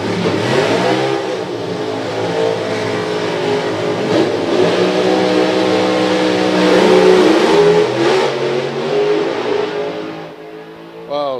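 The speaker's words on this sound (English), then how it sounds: "Sandro Bellio blazes the tyre and Mikkel Larsen goes through with a 6:43" A drag race car launching down the strip with its tyres spinning, a loud roaring engine climbing steadily in pitch for about ten seconds before cutting off, with a crowd murmur beneath.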